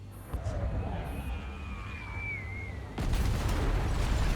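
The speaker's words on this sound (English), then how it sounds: "The explosions show no sign of stopping." Continuous rumbling bombardment of heavy explosions in a game scene, low and dense throughout with a high whistling streak overhead, swelling louder and harsher over the final second and a half.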